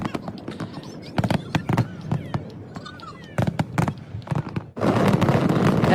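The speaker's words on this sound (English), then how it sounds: "After 40 minutes of just non-stop fireworks, it looks like any other." A world-record fireworks show in Washington, DC: rapid booms and crackling bursts fire one after another, then merge into a dense, continuous roar of explosions. Voices can be heard faintly in the mix.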